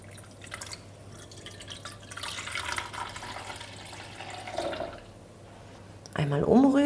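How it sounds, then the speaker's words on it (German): Hot water poured from a measuring jug onto dry yeast and sugar in a small bowl, a soft trickling pour under faint room noise that swells into a louder splash near the end. "Und hier gebe ich jetzt die 240 Milliliter heißes Wasser drauf."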